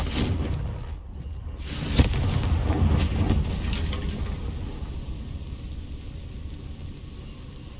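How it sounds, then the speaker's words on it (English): The Confringo fire spell from Hogwarts Legacy goes off as a loud, booming blast with a sharp crack, then fades into a rumbling roar under steady game ambience. "Confringo!"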